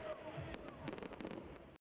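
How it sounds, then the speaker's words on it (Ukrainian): A festive fireworks display over a city at the end of a celebration day, with a rapid run of sharp crackling bursts under a narrator's voice. "Кольоровим та вибуховим, як і настрій містян, завершенням цього незрівнянного дня та вечора став святковий феєрверк"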